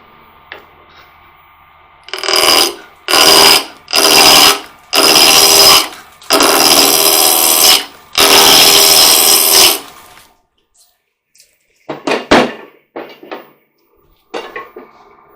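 A wood lathe running at about 1200 RPM while a long-stem goblet is turned, with loud bursts of tool-on-wood cutting noise in repeated passes, then a pause and a few lighter scrapes and knocks.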